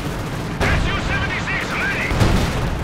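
Artillery and gunfire in a strategy video game, with a broad burst of rumbling booms and crackling shots that starts abruptly and carries on under a narrating voice.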